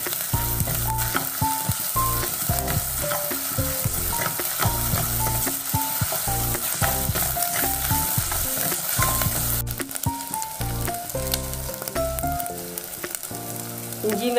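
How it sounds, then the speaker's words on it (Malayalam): Crushed ginger, garlic and shallots fry in a pan for a fish curry, giving a loud, continuous sizzle with stirring throughout and tonal music playing underneath. "ഞങ്ങൾ ഇഞ്ചിയും വെളുത്തുള്ളിയും ചെറിയുള്ളിയും ചതച്ച് വെച്ചത് ഇടാം. അത് നല്ലോണം മൂക്കണം."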